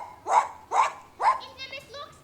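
A dog barks three times in quick, evenly spaced succession at a spring school music show, followed by a few softer yips or whines, fairly close in a quiet room.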